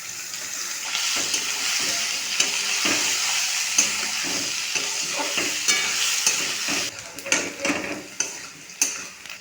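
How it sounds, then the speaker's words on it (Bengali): Potatoes with bay leaf and chopped onion frying in mustard oil, a dense, close sizzle with steady stirring scrapes, turning to sharper, louder clanks of the spatula against the pan near the end. "আলু হালকা ভাজা ভাজা হয়ে এলে দিয়ে দেবো পেঁয়াজ কুচি"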